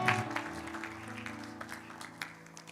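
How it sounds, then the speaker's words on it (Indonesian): A church congregation at a Sunday service cheers and applauds together, a diffuse wash of clapping and voices that carries on and gradually fades. "Berikan sorak-sorai."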